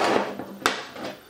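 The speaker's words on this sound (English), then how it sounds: "Then we need to chop this into little pieces." A knife chops cold fat into small pieces in a flour and salt mixture for pot pie pastry, giving a few soft, scattered knocks with one sharper rap on the board, close by and alone.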